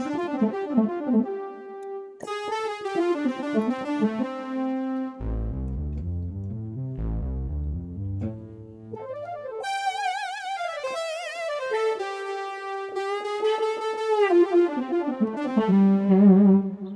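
A Roland V-Stage keyboard's "texture touch" synthesizer patch plays a sequence of sustained, textured notes, jumping from mid-range tones to deep bass notes and back to bright, shimmering chords.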